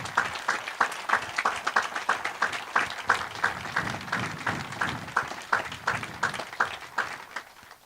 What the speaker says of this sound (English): Please give them a round of applause to express our gratitude for their work